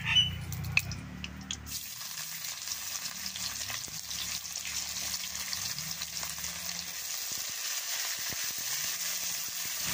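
Chili and cumin frying in hot oil for a quick flour-based evening snack, starting with a loud burst of sizzle that settles into a steady, dense crackle with occasional faint utensil clinks, no talking.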